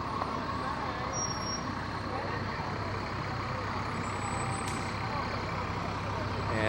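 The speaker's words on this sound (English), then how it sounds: "And they have the smaller ladder truck, and the last one that's decorated the most is the huge ladder truck behind." Fire department ladder trucks, including a large heavily decorated one, rolling past in a Memorial Day parade in Scotch Plains–Fanwood, a steady low engine rumble with faint high beeps, continuous and fairly close amid outdoor crowd noise and voices.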